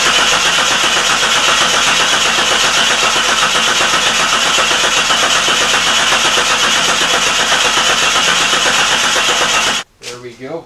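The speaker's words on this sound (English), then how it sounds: "Now I'm going to crank on this till I see oil pressure." A Jeep 4.0L engine cranks on the starter with its fuel pump relay pulled, a loud, continuous, even churning close by for nearly ten seconds before stopping abruptly.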